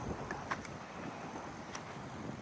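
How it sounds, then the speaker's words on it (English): Gusty wind buffets the microphone at a KOA campground in Panama City Beach, in a low, steady rumble with a few faint higher sounds on top. "it's windy"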